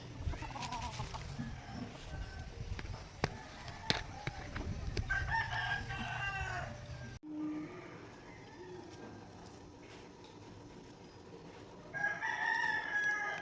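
A rooster crows and chickens cluck amid outdoor background noise, with faint scattered voices, heard at a moderate distance.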